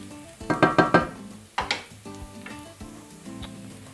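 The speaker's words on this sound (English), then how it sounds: "What I'm doing here is stirring constantly because I don't want the garlic to burn." Minced garlic sizzles in a hot frying pan while a utensil stirs and scrapes it, giving a quick run of clattering taps over a steady close-up sizzle.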